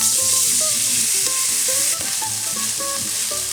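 Anchovy frying in a pan with garlic and chili gives a loud, steady sizzle when a splash of white wine is added. The crackle stays close and continuous, with a slight dip near the middle and no voices.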